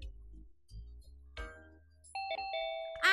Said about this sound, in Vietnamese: Ai mà bấm muốn bể cái chuông luôn.